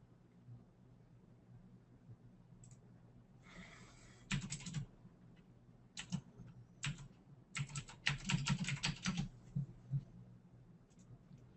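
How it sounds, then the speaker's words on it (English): Computer keyboard typing during a trading indicator webinar, quiet bursts of key clicks in uneven clusters, sparse at first and then denser runs near the end, close and faint against low room hum. "Here, I'm typing it out for you."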